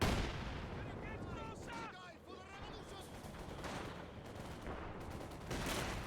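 Dense, booming battle noise of grenade explosions and gunfire rumbles throughout a multiplayer match of Company of Heroes 2, with whistling tones in the middle and a voice talking faintly over it.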